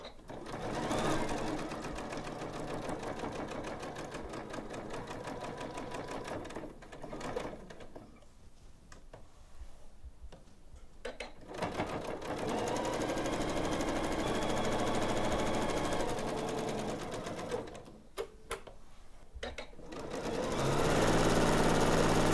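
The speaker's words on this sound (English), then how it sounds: "So I'm going to sew with 1/4 inch seam allowance all the way around the outside." A Janome sewing machine runs a quarter-inch seam around a fabric piece, a fast, steady mechanical whir in long runs broken by brief pauses, heard close.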